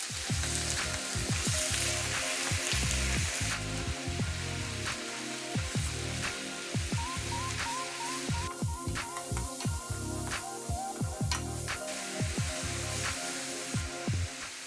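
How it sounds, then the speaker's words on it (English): Beef fried on high heat in oil in a large saucepan: a steady, close sizzle with crisp crackles and spits throughout, under background music. "Add the meats and fry for 5 minutes on high heat."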